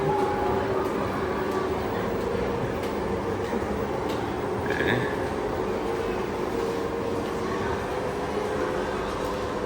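A small toy train ride rumbles along steadily in an echoing indoor mall space, with faint voices murmuring in the background.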